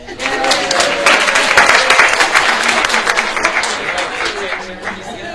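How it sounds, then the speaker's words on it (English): An audience applauds steadily for several seconds, a dense wash of many hands clapping at once. "give him a round of applause"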